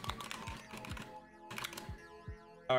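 An email address is typed on a computer keyboard as irregular runs of crisp key clicks, with short pauses between bursts, close up and alone.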